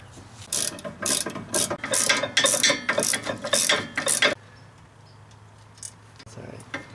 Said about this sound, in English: We're threading in the two bolts